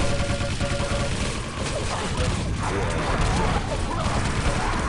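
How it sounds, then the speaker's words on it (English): A shotgun blast in the Quake Live arena shooter during a team deathmatch fires amid a dense, continuous wash of loud gunfire, explosions and crashing impacts from the match, with a constant roar and no clear gaps. "That was a big ass shotgun blast by Latromi."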